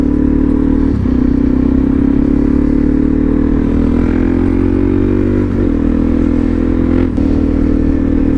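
A Suzuki DRZ supermoto motorcycle drones steadily up close while riding, with brief dips around gear shifts and a faint scraping clatter beneath the engine tone.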